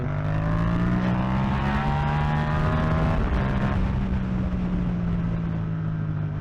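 A Yamaha MT-07 motorcycle engine drones loud and close while being ridden, its steady note holding with slight pitch swells and a dip near the middle.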